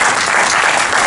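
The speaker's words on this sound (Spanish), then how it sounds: "para que se anime, un aplauso muy fuerte." Loud, sustained applause from an audience at a book presentation event, a dense unbroken wash of clapping filling the whole moment without pause.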